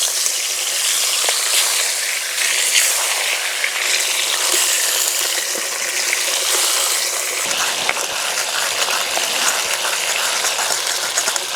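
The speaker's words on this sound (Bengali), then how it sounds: "নুন হলুদ মাখানো মুড়ো দিয়ে দেব।" Katla fish head coated in salt and turmeric frying in hot, smoking mustard oil, giving a loud, steady, close sizzle that crackles without pause and with no talk.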